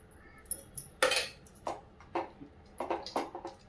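A ragi, coconut and jaggery mixture with ghee is stirred in a pan with a metal spoon, making a series of sharp clinks and scrapes at an uneven rhythm, close and fairly quiet, with no talking.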